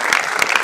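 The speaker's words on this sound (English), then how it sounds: "please give us a small round of applause for this" Brief burst of applause from delegates in a general assembly hall during a council meeting, a short dense patter of many hands at moderate volume.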